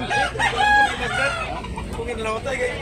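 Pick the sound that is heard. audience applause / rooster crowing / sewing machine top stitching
rooster crowing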